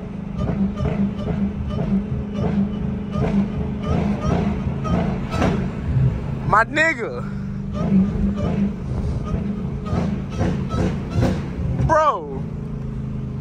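With its air intake removed, a Dodge Hellcat V8 drones steadily from inside the cabin and swells briefly as it shifts down, while people talk loudly over it the whole time.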